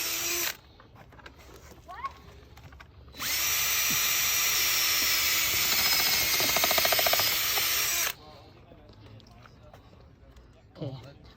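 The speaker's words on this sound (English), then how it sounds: "So we've learned that drilling first helps." A power drill bores through recycled rubber Roman stone garden edging in one loud, steady five-second run, with quieter handling noises and a person speaking before and after.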